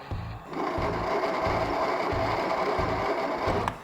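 An old zero-turn mower engine with a frozen ignition switch and low battery runs steadily after a brief start at the beginning, a loud, continuous close-up idle with a pulsing low thump.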